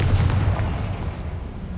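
Confringo blasting spell exploding in the wizarding game Hogwarts Legacy, a short low rumbling boom with a few crackling bursts that fade over under two seconds.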